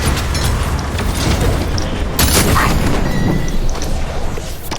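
Gunfire and heavy explosions as players shoot at a tank in a video game, loud, dense booms and crashing bursts running throughout.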